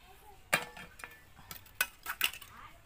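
Steel plates clink together as they are handled, giving a handful of sharp metallic knocks spread unevenly over a quiet background.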